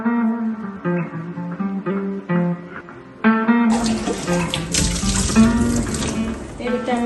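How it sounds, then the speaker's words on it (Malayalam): A person speaks briefly, then a kitchen tap opens and water rushes loudly and steadily into a vessel, collecting water for boiling. "വേവിക്കാനുള്ള വെള്ളം എടുക്കട്ടെ."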